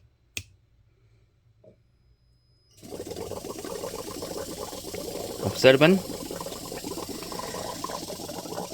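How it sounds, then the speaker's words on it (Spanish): A Samsung Family Hub Bespoke AI refrigerator's compressor starts abruptly after near silence and a single click, settling into a steady hum with a brief burst of mechanical valve clicking partway through, while a voice speaks briefly. "Encendemos nuestro compresor."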